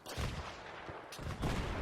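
Gunfire in Battlefield 3, a few muffled bursts of shots at a distance, the last one louder, heard against steady battle noise.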